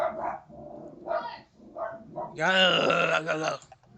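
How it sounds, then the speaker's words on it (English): Several close, loud dog barks come in bursts, followed by a longer drawn-out growling, howling bark. "Damn dogs."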